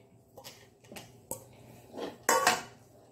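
Banana mixture for milk-free chocolate ice cream scooped into a vessel, heard as a few clinks and scrapes of a utensil against the container, with a louder final knock near the end.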